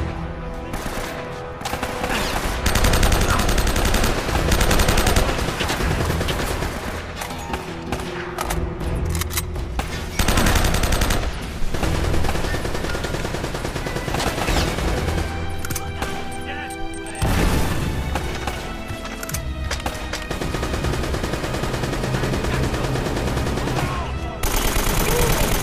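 Dense, sustained video-game gunfire from Uncharted: Drake's Fortune rattles on for most of the stretch, loud and close, with bursts broken by brief gaps and crashing impacts mixed in.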